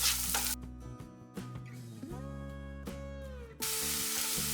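Sliced onions with salt sizzling in melted butter in a pan, a steady close frying hiss with brief stirring scrapes and clanks throughout.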